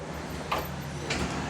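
Rear door of an Atul GEM cargo three-wheeler being worked, giving two short mechanical slides or clunks about half a second apart over a low background hum.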